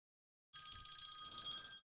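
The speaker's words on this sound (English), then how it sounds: "Stupid robocallers and stupid me for not muting my phone before starting the stream." A mobile phone rings from a robocall, a steady bright electronic ring lasting just over a second, fairly faint and heard alone.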